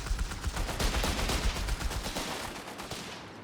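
Aircraft strafing run in the World War II strategy game Company of Heroes 3, a continuous hail of rapid gunfire and impacts that stays loud and dense before tapering slightly toward the end.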